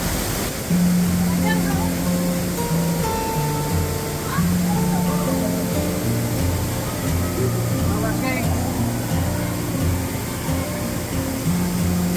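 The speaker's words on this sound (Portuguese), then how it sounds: "A cachoeira é fria." Cold waterfall near a cave with thermal springs, a steady broadband rush of falling water filling the scene, with people talking over it throughout.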